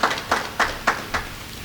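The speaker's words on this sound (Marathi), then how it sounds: "हे सगळ्यांनी टाळ्या वाजवून स्वागत करूया त्यांचं." An audience claps to welcome a lecturer at a Marathi ghazal talk, a few spaced, distinct claps rather than sustained applause, close and moderately loud.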